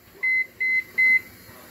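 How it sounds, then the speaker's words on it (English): A microwave oven timer gives three short, even electronic beeps in a quick row, clear and close in a quiet kitchen. "I need a timer on the microwave."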